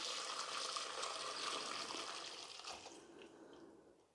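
Chicken cooking juice pours through a sieve into a glass bowl, a soft continuous trickle and splash that gradually thins out and fades to quiet.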